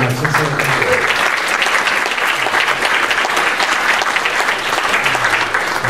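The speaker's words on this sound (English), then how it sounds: "Let's give a round of applause." Audience applause at a gala's opening remarks, a loud, sustained roar of many people clapping continuously, with faint voices underneath at the start and end.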